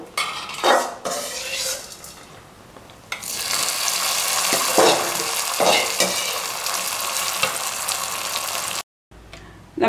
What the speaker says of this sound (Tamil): நம்ம தேங்காயெலாம் தாளித்ததை இந்த கறி கூட சேர்க்கலாம்.